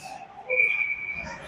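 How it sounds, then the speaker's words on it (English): A referee's whistle at an ice hockey game gives one sustained, shrill blast lasting under a second, rising above low arena ambience. "and a whistle."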